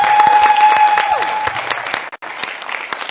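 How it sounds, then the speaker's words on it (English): An audience at a networking event for the cultural and creative industries breaks into loud, dense applause that fades briefly and picks up again. "Give them a round of applause."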